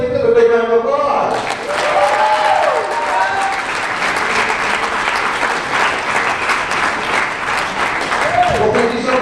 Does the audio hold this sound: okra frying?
no